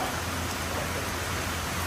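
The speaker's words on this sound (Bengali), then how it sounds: "প্রচুর বৃষ্টি, প্রচুর" Heavy rain pours during a storm warning at Cox's Bazar, a dense, steady roar of downpour with no break or talk.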